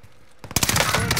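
Gunfire in a first-person shooter video game: after a quiet start, a sudden burst of rapid, loud shots fills the second half of the short moment, dense and close.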